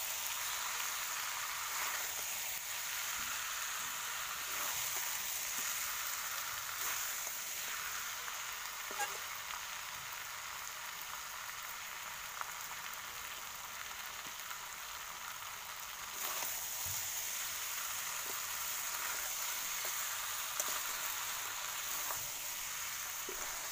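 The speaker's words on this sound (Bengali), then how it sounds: "জল দিয়ে দিলাম, গরম জল" Chicken curry sizzling in a pan after hot water is poured in, a steady close bubbling hiss that runs continuously with faint stirring taps and no voices.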